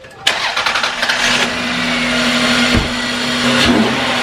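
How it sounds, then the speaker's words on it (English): Induction roar from a car engine breathing through a short ram intake starts abruptly, then a steady loud drone holds with slight rises and falls in pitch, close and with no voices. "it's probably louder than some exhausts, like the induction noise"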